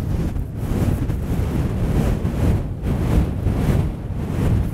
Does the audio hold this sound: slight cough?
no